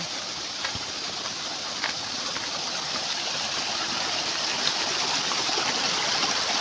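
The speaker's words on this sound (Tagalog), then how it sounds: "kami po ay tatawid na ng sapa" A mountain stream runs over rocks on a steep upland trail, giving a continuous broadband rush of flowing water at moderate level with small splashy bursts mixed in. No voices are heard.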